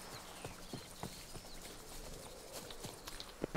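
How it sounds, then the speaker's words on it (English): Horse galloping in The Witcher 3, quick rhythmic hoof clip-clops thudding over a soft steady background, moderately close and fairly quiet, no voices. "Even a horse drops if you ride it at a constant gallop."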